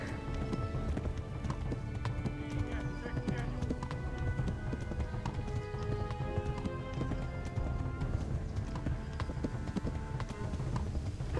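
A horse gallops in Kingdom Come: Deliverance, hooves pounding in a rapid, continuous rhythm under game music and busy in-game noise, with a voice speaking over it.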